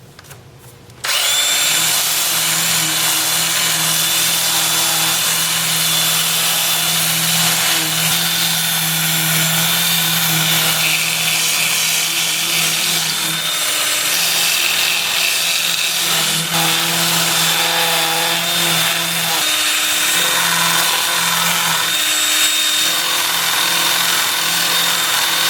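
Plum crotch wood being sanded on a lathe spinning in reverse at 380 RPM with a 2-inch power sanding disc, a loud continuous whirring grind with steady motor hum that starts abruptly and runs throughout, no talking.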